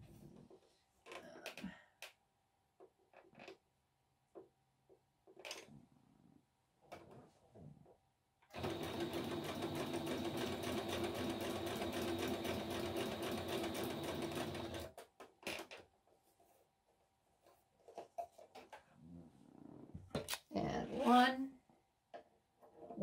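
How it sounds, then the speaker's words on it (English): A sewing machine stitches across a paper junk journal envelope in one steady burst of about six seconds, with quieter handling sounds and brief speech before and after. "I'm going to stitch this really quick."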